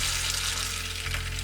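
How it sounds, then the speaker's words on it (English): Tap water running steadily into a sink to rinse freshly dyed, still-hot yarn, a constant hissing splash with slight shifts as the stream hits the wool. "So I'm just gonna turn on my water here and rinse it off."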